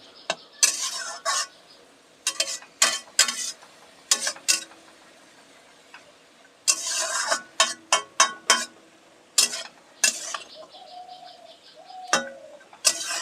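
A utensil scraping and tapping in a pan as green leafy vegetables cook with chickpeas over low heat, irregular clusters of clinks and scrapes, fairly quiet, with faint bird chirps in the background.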